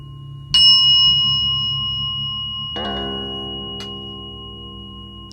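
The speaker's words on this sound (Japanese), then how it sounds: "そのベルの音は自転車から出てたそうです。" A bicycle bell gives a clear metallic chime, struck once and then again a couple of seconds later. Each ring decays slowly against a quiet background.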